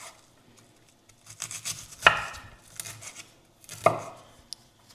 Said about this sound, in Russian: Вот на такие мелкие квадратики мы режем.